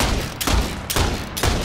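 Rapid gunfire bursts from the video game Far Cry 6, three loud broadband volleys spaced about half a second apart over a steady noisy background of game sound.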